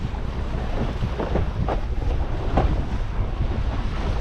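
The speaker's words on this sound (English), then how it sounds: "here comes the wake of the ship and the wind shadow" While windsurfing across the English Channel, a ship's wake and strong wind meet the board, giving a constant roar of gusting wind over the microphone and rushing, splashing water.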